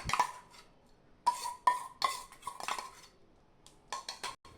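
Cooked, mashed moong dal being stirred into aval sweet pongal in a pot, with a series of scraping and clinking utensil knocks against the metal, close and moderately loud, in uneven bursts with short pauses.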